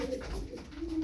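Tumbler pigeons of mixed sexes give a brief low cooing call, soft and close, with a faint steady hum behind it.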